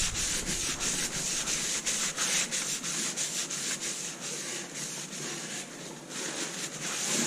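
A cloth rubs and wipes a very dirty Alfa Romeo wheel rim, close and loud, the strokes repeating in a quick, steady scrubbing rhythm with no talking.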